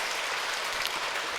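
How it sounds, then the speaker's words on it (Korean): A church congregation gives warm welcoming applause at a Sunday service, a steady, dense wash of clapping from many hands, heard from a distance and without voices. "우리 따뜻한 박수로 환영하겠습니다"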